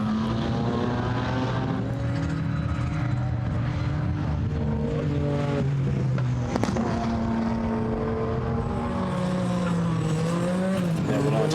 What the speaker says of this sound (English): 4 McLarens, a Ferrari in the mix here, and the Lotus, of course.